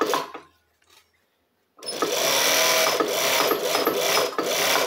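A twin-needle sewing machine stitches bias binding on bikini pieces, a few short bursts and a pause, then a fast, continuous mechanical chatter close by for the last three seconds.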